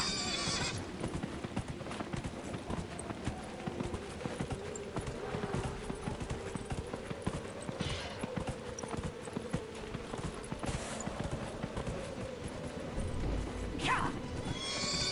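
Horse hooves clip-clop in a steady rhythm in Dragon Age Inquisition, with a few whinnies and neighs over a continuous bed of game ambience.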